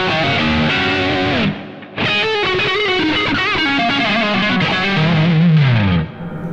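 A Yamaha Pacifica 502V electric guitar on its single-coil pickup, played through a Yamaha THR10X amp with distortion and chorus-like effects, loud and close, with sustained chords and melodic runs and a short break near the two-second mark.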